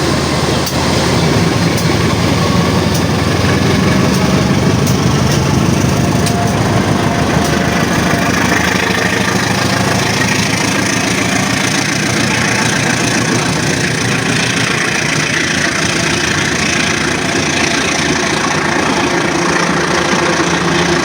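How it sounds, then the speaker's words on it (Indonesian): The Tawang Alun passenger train pulls away from Kalibaru station with a loud, steady engine drone and rumbling that continues without a break throughout. "kereta Tawang Alun diizinkan untuk berangkat kembali dari stasiun Kalibaru dan akan menuju"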